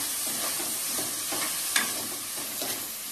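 Tomato and turmeric sauté in a pan for mutton gravy, sizzling steadily while a spoon stirs in repeated scraping strokes, close and fairly quiet.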